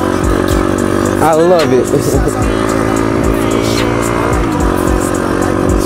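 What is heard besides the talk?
Piranha 140 engine in CT70 clone minibike revving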